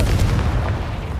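A Confringo fire spell explodes in the Hogwarts Legacy video game, a short, heavy booming blast with rumbling low end that fades quickly, loud and close.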